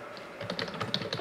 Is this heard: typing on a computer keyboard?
yes